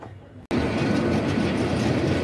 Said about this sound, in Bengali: আমাদের ট্রেন পিয়ারপুর রেল স্টেশন ছেড়ে দিয়েছে